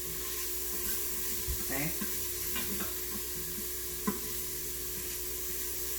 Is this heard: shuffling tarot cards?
no